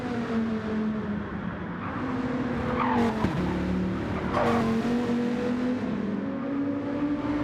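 A race car at Mount Panorama in a racing video game, its engine holding a steady droning note, with brief tire squeals as it brakes and turns through corners, loud and continuous.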